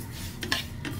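Moong dal lentils fry in a pan as a utensil scrapes and clinks against the metal a few times, with a soft sizzle running underneath.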